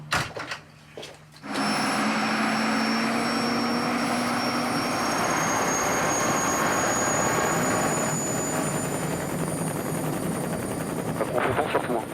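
A French military helicopter carrying a sniper drones steadily overhead in the desert, its engine and rotor roar continuous and loud throughout, with a brief quieter moment at the start.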